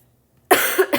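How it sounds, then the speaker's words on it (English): A person coughs sharply at close range after a moment of silence, a harsh burst followed by a second shorter hack. "I'm sorry for the coughing."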